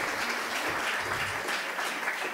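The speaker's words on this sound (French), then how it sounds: "Oui, vous pouvez applaudir Samuel Lafont." An audience at a round-table forum applauds, a steady wash of many clapping hands sustained at moderate volume throughout the short stretch.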